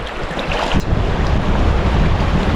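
Strong wind roars and buffets the microphone in Sweden's remote mountains, a loud, continuous rushing with heavy low-end rumble and gusts and no pauses.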